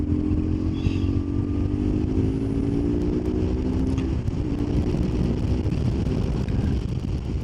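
BMW R1150GS custom scrambler motorcycle riding at speed on a downhill road, its boxer engine droning steadily with rising pitch as it accelerates to overtake, heavy wind rush throughout.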